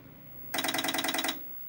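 The internal modem of a Commandex Videotex computer dialing a phone number gives a single rapid, evenly pulsed burst of tones lasting just under a second, close and fairly loud over faint room noise.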